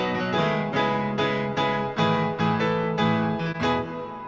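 Piano part from a worship song arrangement, playing steady repeated chords in an even rhythm. It sounds close and full, with no voices over it.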